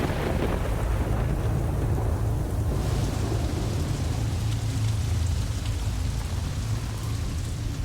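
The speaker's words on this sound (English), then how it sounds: "After 8 days of solid rain," Heavy rain pours steadily in the Southern Alps, a dense, loud wash of noise with low rumbling underneath that suggests distant thunder, continuous from start to finish without any talking.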